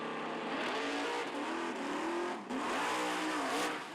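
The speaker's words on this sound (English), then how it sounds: "Went from low to second gear while that thing was in the air" Race car engine shifting from low to second gear during a wheelie, a loud continuous roar with a brief dip at the gear change before the revs climb again.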